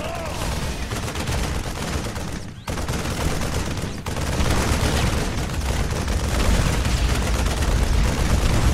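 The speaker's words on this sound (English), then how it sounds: "These special artillery attacks can be used against tough targets like this enemy planetary fortress." Heavy artillery fire from a Thor in StarCraft II, a dense, continuous barrage of booming gunshots and explosions that stays loud throughout, with a brief dip partway before the pounding resumes even stronger.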